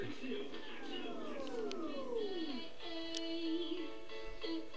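A cat meows in drawn-out, sliding calls, several in a row at close range, with a person's voice talking over part of it indoors.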